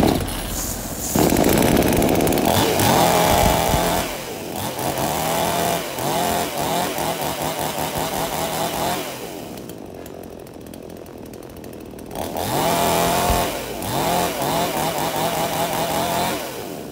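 A chainsaw is test-run for sale, its engine revving loudly and close in repeated bursts, dropping to idle and briefly cutting out before revving up again.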